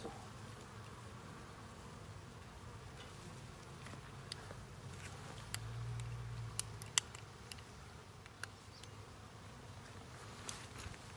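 A package of honey bees being installed into a hive gives a faint, steady low buzz throughout, with occasional light clicks and taps from handling.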